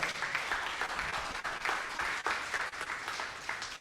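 A church congregation claps strongly in praise, a steady roar of many hands with slight surges and dips, close and continuous without any voice on top.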